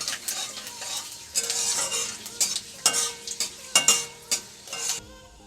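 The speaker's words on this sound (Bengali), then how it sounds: "একটু নেড়ে চেড়ে" Bay leaves, dried red chillies and panch phoron frying in oil while being stirred, bursts of bright sizzling with repeated spatula scrapes and clinks against the pan, close and alone without speech.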